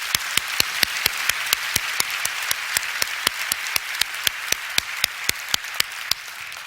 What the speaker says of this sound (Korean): 그 결심의 박수 한번 해볼까요?